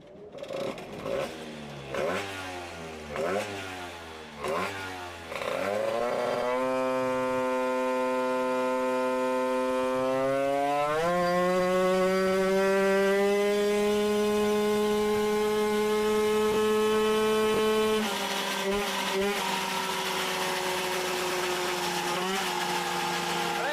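Two-stroke moped engine fitted with a Neo crankcase and a 50WR, after its chain tension was slackened, revving hard in short rising bursts before holding a loud, sustained high-pitched drone that climbs in steps, close up with no talking.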